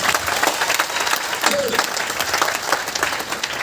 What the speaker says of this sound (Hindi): एक बार इस गामा और इस्नॉल के लिए जोरदार तालियां बजा दीजिए